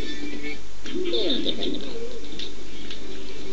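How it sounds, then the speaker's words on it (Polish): Parrot in the LEGO Pirates of the Caribbean video game, chirping and cooing in short warbling bursts over soft game music, fairly close and moderately loud. "Gdzie jest papuga? O, tu lata, o właśnie tutaj."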